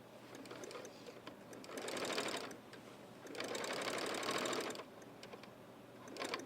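A sewing machine stitches in steady mechanical bursts, speeding up and slowing between runs, close and fairly loud with no talking.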